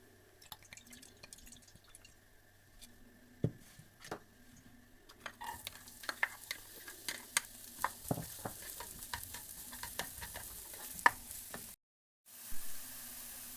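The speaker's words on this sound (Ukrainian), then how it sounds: "Спочатку обсмажуємо цибулю." Quiet frying of onions in a pan: a soft crackle and scattered sharp clicks and taps that grow busier partway through, with a brief silent gap near the end.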